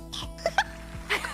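A voice imitating a baby's cough, a few short, high, squeaky coughing bursts in quick succession, close and fairly quiet.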